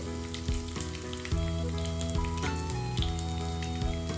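Curry leaves and crushed garlic fry in hot oil, giving a crackling sizzle beneath steady tonal hums and repeated clinks of a utensil against the pan.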